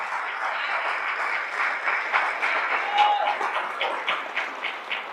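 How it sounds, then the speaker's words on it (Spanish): A church congregation applauds together in a steady, dense wash of clapping that holds throughout, with a few louder individual claps standing out toward the end. "dile un aplauso al Señor ahora"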